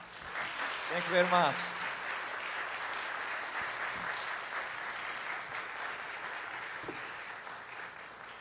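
A church congregation applauds steadily during a Korean Sunday service, a broad sustained wash of clapping that carries through the whole stretch, with a brief spoken thanks near the start.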